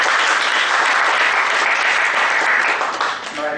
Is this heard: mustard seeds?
no